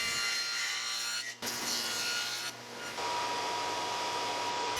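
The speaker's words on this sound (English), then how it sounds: "Using the dado stack, I'll make a 3/4 by 1/2 inch tenon on each end of each slat." Table saw dado stack cutting tenons on the ends of wooden slats, a loud steady whine with brief dips as the cuts change.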